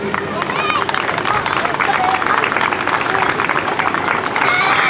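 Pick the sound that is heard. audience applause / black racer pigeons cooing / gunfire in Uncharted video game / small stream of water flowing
audience applause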